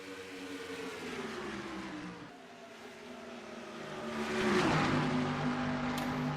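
Race cars lapping Darlington in a sim racing video game, a Dodge Challenger 500 stock car series event: engine drones rise and fall with shifting pitch, swelling louder as a pack passes mid-clip, heard alone without commentary.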